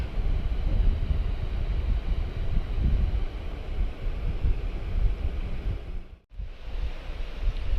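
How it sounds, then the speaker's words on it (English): Steady, heavy rushing of a waterfall pouring into a mountain lake in Sequoia National Park, a dense continuous roar with a brief dip near the end, no voices. "Nice waterfall coming in here."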